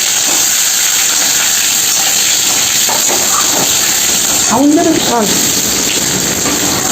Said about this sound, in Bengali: ওর জন্য আমি সিদ্ধ করা আলুগুলোকে ভেজে নিলাম।